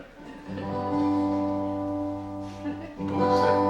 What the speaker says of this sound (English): Sounds like an organ, doesn't it?